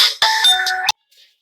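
A phone ringtone for an incoming call plays loudly and close for under a second, a bright multi-tone melodic chime with a few quick notes, then cuts off into near silence with a faint trailing tone.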